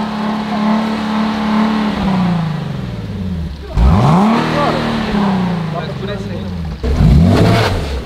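A Nissan 370Z sports car engine with stock exhaust revs up repeatedly nearby, rising and falling in pitch with a fairly mild exhaust note; voices talk over it.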